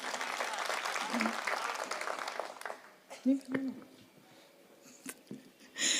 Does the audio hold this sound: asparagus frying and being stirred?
no